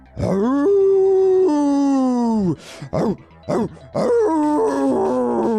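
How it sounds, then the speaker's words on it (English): A low, drawn-out dog groan rising from a growl into a wavering howl, followed by short broken yowls and another sustained howl, loud and close. "you start to hear this growl, and it turns into a howl"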